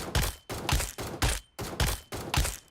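ACE-32 assault rifle fire in BGMI, a mobile battle royale game: five loud, evenly spaced gunshots about half a second apart, each a sharp close crack with a short decaying tail.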